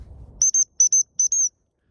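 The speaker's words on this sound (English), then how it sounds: "the emergency recall, which is 6 short blasts on the whistle" Dog-training emergency recall on a whistle: six short, shrill blasts grouped in three quick pairs, clear and close with silence after.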